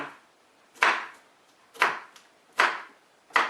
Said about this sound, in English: All you're doing is chopping, chopping, chopping